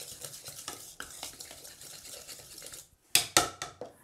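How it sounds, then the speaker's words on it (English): Cookie dough being whisked by hand in a bowl, a steady run of soft scraping, stirring strokes up close, then a brief pause and a few sharper, louder clinks of the whisk against the bowl. "to whisk the dough together"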